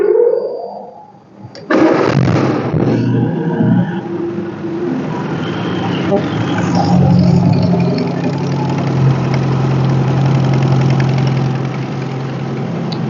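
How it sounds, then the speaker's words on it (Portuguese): A car engine cranks and catches after a short quiet lead-in, then settles into a loud, steady idle with a constant low hum and a slight whine running to the end. "Vou dar partida no veículo lá"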